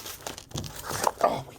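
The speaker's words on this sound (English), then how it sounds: "Oh, this is some tough tape." Tough packing tape is pulled and peeled off a parcel close by, making a short run of crinkling, crackling rips that rise toward the end.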